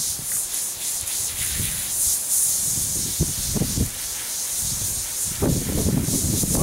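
A hose spray rinses a horse being washed with medicated tea tree wash: a steady broadband hiss of water runs throughout, with low thumps and splashing bursts beneath it.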